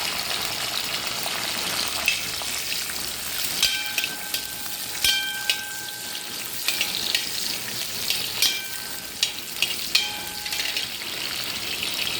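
Raisins sizzle and crackle steadily as they fry in a pan for jackfruit-seed sweet balls, with intermittent scraping and clicking from a spoon stirring them, close and continuous.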